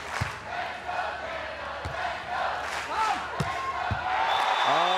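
A crowd roars and cheers at a men's beach volleyball semifinal at the 2016 Toronto Major, with sharp ball slaps cutting through the steady cheering noise.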